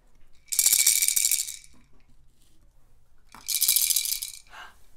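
Two bursts of shaking from homemade Montessori sound cylinders, a bright rattling clatter of small loose contents, close and moderately loud with a quiet gap between.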